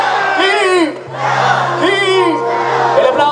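At a wedding party, a group of single women let out loud, drawn-out shouts and whoops in two or three bursts, close and energetic over a steady low hum.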